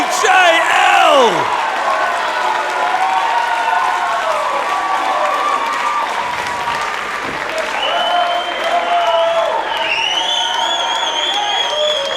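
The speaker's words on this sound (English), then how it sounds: "The crowd has become unglued." A packed wrestling crowd at a tag team dog collar match erupts in loud sustained cheering, applause and whoops, with excited voices rising over the roar.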